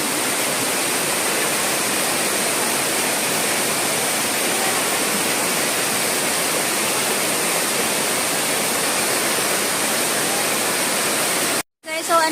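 Wide waterfall at Little Hawaii pours in a continuous dense hiss and roar, heard close and steady before a sudden brief cut near the end, with no speech over it.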